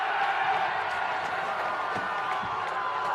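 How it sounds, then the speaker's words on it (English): A crowd at a football grand final between Strathfieldsaye and Gisborne in Bendigo keeps up a steady, distant roar of cheering throughout, with no clear peaks. "And you can hear the crowd in the background."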